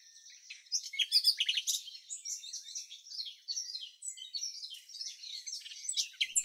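A common nightingale sings continuously in bright, varied phrases of whistles, trills and rapid chirps, moderately distant, with no other sounds.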